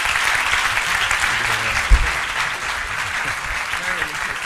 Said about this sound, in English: let's give last applause for Prof.